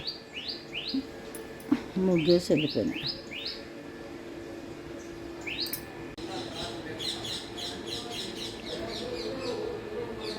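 Birds chirp outdoors in quick repeated bursts of high tweets, with a person speaking briefly in the middle.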